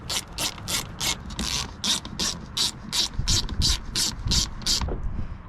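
A Torx T20 driver ratchets out the screws of a third brake light on an LML Duramax pickup cab, about a dozen quick, evenly spaced metallic clicks close up over a low rustling background.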